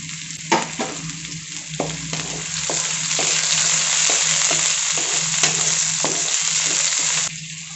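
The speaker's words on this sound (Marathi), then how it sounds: "आता हिरवी मिरची टाकून घेऊयात आणि कढीपत्ता।" Green chillies and curry leaves sizzle steadily in hot oil in a pan on low gas with tomatoes, while a spoon scrapes and stirs in repeated clinks over the continuous frying hiss.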